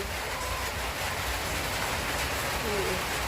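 Steady rain pours down outdoors on a wet day, a dense, even hiss filling the scene without pause from start to finish.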